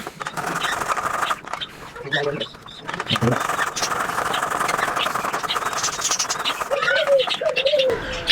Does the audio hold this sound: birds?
yes